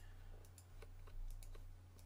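A computer mouse clicks while thumbnails are dragged around in Microsoft Expression Media: a few sharp, light clicks scattered over a low steady hum, close and fairly quiet.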